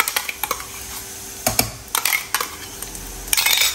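Garlic and green chili paste dropped into oil with lightly browned onions in a pan, giving irregular crackles, clinks and scraping stirs of moderate loudness with no talk.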